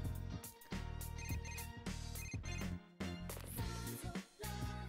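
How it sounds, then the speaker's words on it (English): A phone text message alert in the video game Persona 4 Golden, a bright repeating electronic chime with a steady rhythmic pattern running for several seconds, close and alone. "We received a text message."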